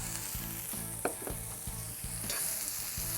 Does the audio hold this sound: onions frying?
yes